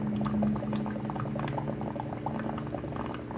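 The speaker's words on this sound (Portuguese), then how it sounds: "Eu posso botar mais uns dois dedinhos de água aí" Water pours steadily into a breeding tank for a pair of koi betta fish, a continuous close splashing rush with a low hum underneath and no voices.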